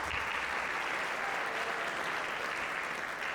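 An audience at a middle school spring concert claps and cheers for chorus students, a dense, steady wash of applause that stays loud and even for the whole stretch.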